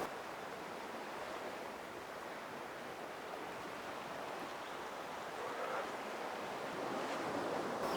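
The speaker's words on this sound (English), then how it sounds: "waited for those set waves to roll through" Continuous roar of ocean waves rolling in and breaking, a broad wash of surf that swells slightly louder toward the end.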